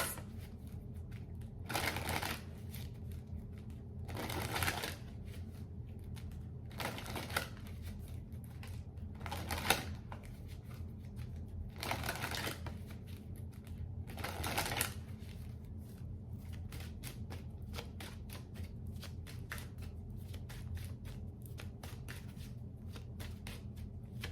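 A deck of tarot cards being shuffled: repeated soft riffling bursts roughly every two to three seconds, close and quiet, with light handling clicks in between and no talking.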